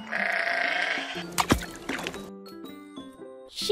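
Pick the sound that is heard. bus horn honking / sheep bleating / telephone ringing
sheep bleating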